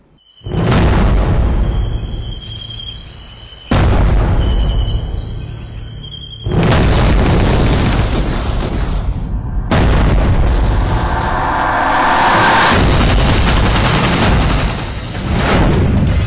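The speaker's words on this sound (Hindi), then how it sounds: "गोलों की घुड़की से आतंकी घुसपैठ की फिराक में पाकिस्तान।" Artillery shelling at the India-Pakistan Line of Control in Jammu and Kashmir, a series of heavy booming blasts with long rumbling decays and quieter pauses between, alongside a steady insect-like whine in between.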